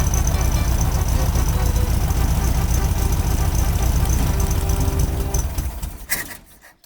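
A classic Volkswagen Beetle engine runs close and loud during a cylinder test, a rough busy chatter of firing pulses that holds steady for about five seconds, then dies away and cuts off.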